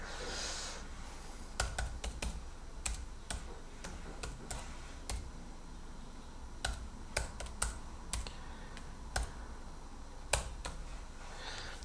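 Keys clicking on an MSI Prestige 14 laptop keyboard, a run of crisp, separate taps at an uneven pace over low room noise, no voices.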